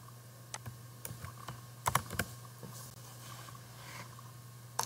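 Keys clatter on a computer keyboard as Appium test code is typed for an Android Studio project, with irregular bursts of clicks under a steady low hum. The sound is fairly quiet and close, with no speech.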